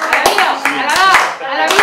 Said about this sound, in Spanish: Un aplauso para el Samuel